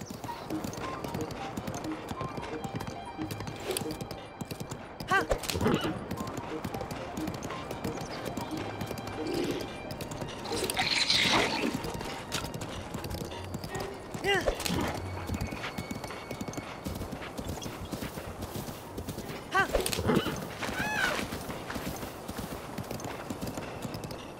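Horse hooves clip-clop steadily at a gallop in Zelda: Breath of the Wild, with a few whinnies breaking through, under a continuous game soundscape and occasional talk.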